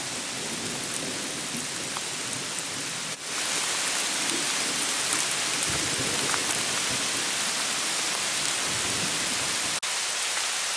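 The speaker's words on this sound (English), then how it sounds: "They're just a little wet from this hard rain we're getting right now." Hard rain pours steadily on a hiking trail near White Rocks in the Cumberland Gap, a dense, loud, continuous hiss with low rolling thunder rumbling beneath it and no voices.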